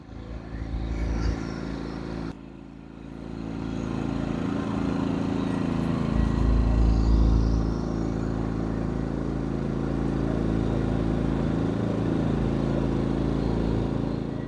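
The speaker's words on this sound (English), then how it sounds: "I don't know if it's the propane, might be running a little lower on the RPM, but it's quieter for sure." EcoFlow dual fuel smart generator running on propane in eco mode, a steady droning engine hum with a low, even rumble that holds at a constant pitch for the whole stretch, close by and with no voices.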